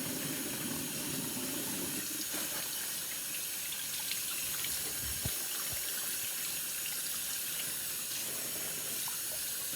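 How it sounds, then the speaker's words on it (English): Tap water runs steadily to rinse the sugar cure off a slab of homemade bacon, a continuous close splashing rush with shifting gurgles as the meat moves under the stream, and no talking. "I'm washing it off because I need to get the sugar off of this bacon"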